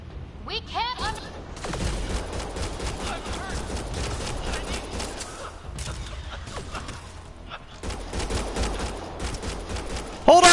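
Mass Effect Andromeda combat gunfire rattles in quick bursts and volleys, loud and close, broken by short pauses, with voices talking over the shooting.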